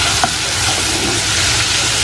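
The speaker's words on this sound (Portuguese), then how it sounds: "vou deixar aqui o bacon fritando e já vou pôr a azeitona pra fritar junto também" Bacon and olives fry together in a pan, giving a steady, loud, even sizzle and hiss throughout with no talking.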